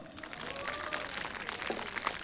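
Audience at a busking national competition finals in Gangneung applauds as contestant number 10 takes the stage, a steady wash of clapping at moderate level with faint tonal sound underneath.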